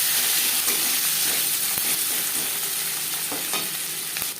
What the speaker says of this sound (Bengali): পেঁয়াজ হালকা করে ভেজে নেব খুব বেশি কড়া করে ভাজবার প্রয়োজন নেই